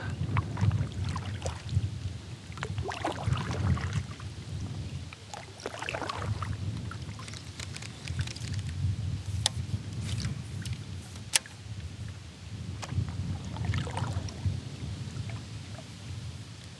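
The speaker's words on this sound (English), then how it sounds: "This wind is not making it easy to try to sit still today." Steady wind gusting outdoors on open water during a fishing outing, a broad continuous rush with buffeting against the microphone and faint boat or water knocks throughout.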